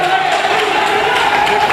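An audience at a mushaira poetry recital claps and cheers in a dense, continuous wash of applause that is loud and close and runs the whole way through, with crowd voices mixed in.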